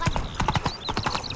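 A horse's hooves clip-clop in a quick, steady rhythm as it is ridden through a video game world, loud and close, with a faint whinny in the mix.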